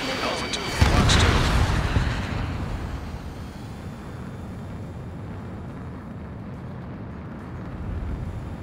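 A missile launches in the jet combat game Ace Combat 7 during a training session: a sharp loud burst, then a heavy roaring rumble that slowly fades but keeps going to the end.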